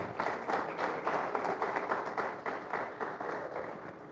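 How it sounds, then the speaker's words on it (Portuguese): Church congregation clapping in a steady, joyful rhythm, a dense, moderately distant patter of many hands filling the room. "louva a Deus com palmas bem alegres para Jesus"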